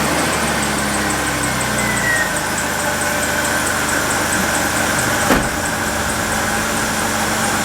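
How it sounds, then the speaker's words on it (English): A Jeep engine idles after a transmission swap, a steady, fairly loud low rumble with a faint whine that holds evenly throughout and has one brief knock near the end. "We are gonna start it up and maybe take it for a little spin."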